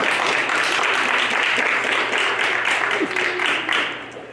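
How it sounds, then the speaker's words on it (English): A room of people applauds steadily for Willow at a library's 10th anniversary celebration, dense clapping holding evenly for several seconds before tapering off at the end. "Let's have a big round of applause for Willow."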